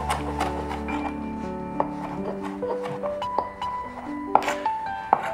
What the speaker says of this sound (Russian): Теперь необходимо резать мелкими кубиками